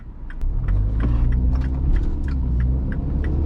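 A 2015 MINI Cooper Countryman S ALL4 with a 1.6-liter engine runs in normal drive mode, heard from inside as a steady low rumble and hum. Faint light clicks and rattles sit above it, and nobody speaks.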